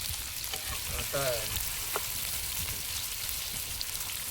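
Fish coated in masala frying on a flat tawa, a steady close sizzle and crackle running throughout, with a brief voice and a stirring clatter partway through.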